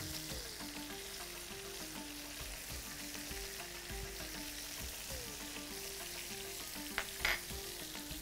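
Beef fillet frying in a pan, a faint steady sizzle with soft stirring and scraping knocks and a brief louder clatter near the end, no voices.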